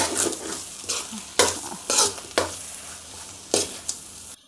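Shark fish puttu with chopped coriander being stirred and fried in a pan, a soft sizzle under repeated sharp scraping strokes of a spatula at an irregular rhythm, close and clear.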